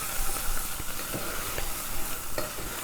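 Curry spice base for a mussel soup with coconut sizzles and fries steadily in a pan, a close, continuous hiss with occasional stirring scrapes and no voices.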